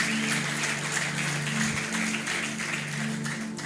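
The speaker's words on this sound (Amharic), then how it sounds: "ቴንክ ዩ ብላችሁ አጨብጭቡለት።" A church congregation applauds at a worship service, steady clapping from a crowd heard at a moderate distance, continuous for the whole stretch with a low hum beneath.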